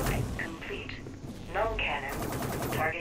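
Rapid automatic gunfire in the sci-fi shooter Dust 514, steady and fairly close, with bursts running throughout under a voice talking over it.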